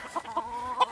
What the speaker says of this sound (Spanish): La mayoría de estos animales son gallos machos